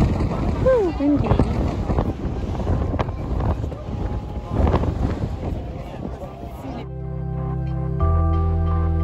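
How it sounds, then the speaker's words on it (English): Steady wind in Sedona, Arizona rumbles and buffets the microphone, with a person speaking briefly over the gusty roar before the wind noise settles into a constant low hum. "Whew, windy."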